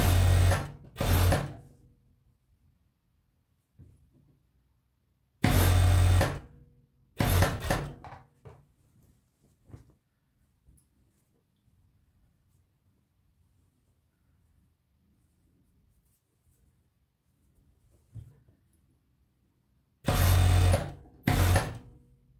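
A sewing machine stitches a cardigan sleeve seam in short bursts: a pair of quick runs at the start, two more near six and seven seconds, and another pair near the end, with quiet handling between them.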